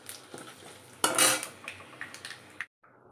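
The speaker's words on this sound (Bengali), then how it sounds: "এই দেখো 5 ফোড়ন দিলাম," Panch phoron whole spices and two bay leaves drop into hot oil in a pan, giving a brief, quiet sizzle burst amid light clinks of a metal utensil.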